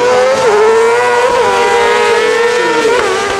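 An ice-circuit sprint car races past at full volume, its high engine note rising and dipping continuously through gear shifts and throttle changes, with no voices over it.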